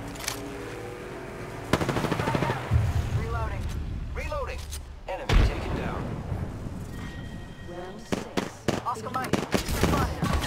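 Rapid gunfire from the Apex Legends video game, with bursts of shots and impacts scattered through a busy mix of game effects, and a player talking over it.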